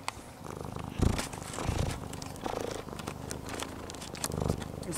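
A cat purrs close up, a soft steady rumble with a few light rustles and scratches around it.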